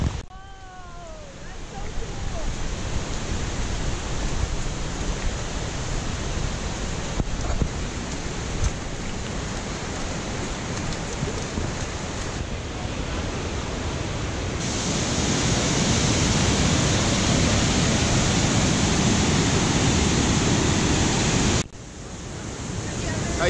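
Rushing water at Granite Falls in the Seattle area, a steady broadband roar that fills the whole clip, swelling louder in the second half with wind buffeting the microphone.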